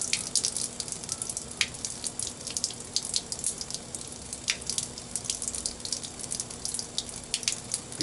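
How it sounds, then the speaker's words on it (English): Water running steadily from RV faucets after sanitizing the fresh water system, a continuous hissing splash with small drips, alone. "I'm going to let that run a little bit, flush that breather line out real good"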